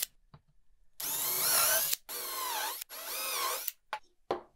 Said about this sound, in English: I'll first drill some countersink pilot holes to prevent splitting